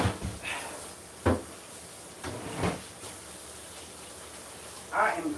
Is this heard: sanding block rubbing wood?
no